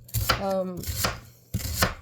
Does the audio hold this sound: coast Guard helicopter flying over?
no